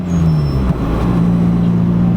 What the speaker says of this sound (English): take a really quick drive in the Civic, get some blow-off sounds for you